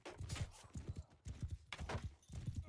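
Horse hooves gallop in quick rhythmic clip-clop bursts during a Mount & Blade II: Bannerlord multiplayer battle, a horse archer's mount pounding along fairly close with short pauses between runs.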